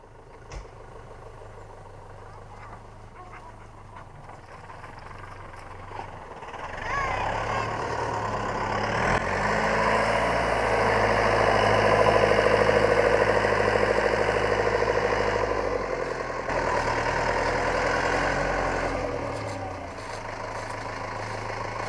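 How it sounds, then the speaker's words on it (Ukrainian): Chinese Zoomlion 504 tractor setting off across a low, boggy field to begin plowing, its diesel engine rumbling steadily and swelling louder and nearer midway through before easing off slightly, with no talk over it. "Так, ну що, їдемо та й починаємо рати."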